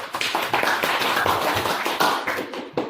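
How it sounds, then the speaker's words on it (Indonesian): Ninth-grade students in an Indonesian language class clap together briefly, a close burst of fairly loud, uneven hand claps lasting a few seconds. "Ya baik, tepuk tangan."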